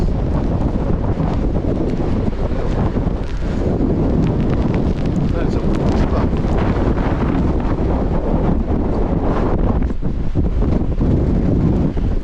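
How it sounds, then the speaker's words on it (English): Strong wind with rain buffets the microphone at a stormy Devon wild campsite in a loud, continuous roar with gusty swells and rumbling, lasting the whole time. "It is so windy out there and rainy."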